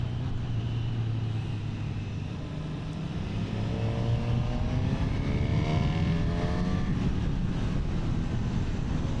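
Honda CB1000 SP Hornet inline-four motorcycle engine running steadily and pulling up through higher revs, a loud continuous drone with rising harmonic tones, alone without talk.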